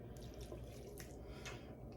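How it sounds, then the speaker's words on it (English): Water trickles and splashes steadily from a tap into a bowl of whole wheat bread dough, a continuous close running-water sound with a few brighter splashes. "now this is adding more water"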